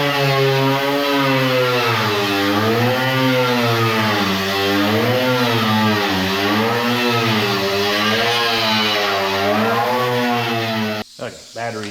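A battery power tool, likely a grinder or rotary tool, scuffs bare metal on a truck repair panel and bed flange to give glue a tooth, a steady loud wavering whine for about eleven seconds that cuts out abruptly near the end.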